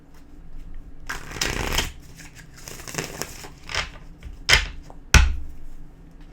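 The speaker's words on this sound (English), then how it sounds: "one more shuffle" Tarot cards being shuffled by hand in several bursts: soft riffling and sliding passages, then two sharp snaps or taps near the end, close and clear with no talk.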